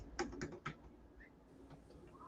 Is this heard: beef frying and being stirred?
no